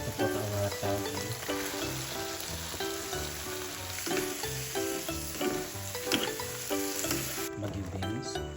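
Bean sprouts (togue) stir-fried in a pan give a steady, continuous sizzle with stirring scrapes, heard beneath prominent background music throughout.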